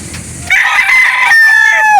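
At a live chicken market in Calauan, Laguna, a rooster lets out a loud, close crow lasting about a second and a half, following a brief murmur of background clucking.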